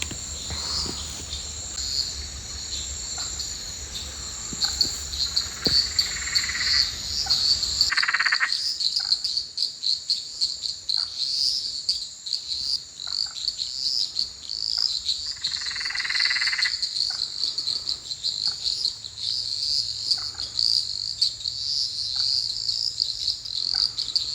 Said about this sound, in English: listen to the beautiful callings of these Perrin's tree frogs